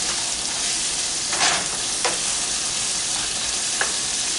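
Taco salad filling sizzles steadily in a pan as it cooks down, a constant close frying crackle with a few light stirring scrapes and clinks, no voices.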